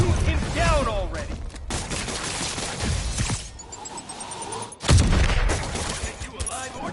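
Gunfire in the PS5 game Spider-Man, rapid bursts of shots and impacts set among chaotic action noise, with a loud thumping hit near the end and game voices shouting over the mix.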